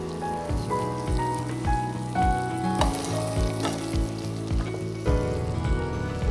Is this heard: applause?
no